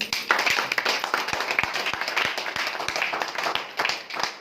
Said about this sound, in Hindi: क्या ताली नहीं होनी चाहिए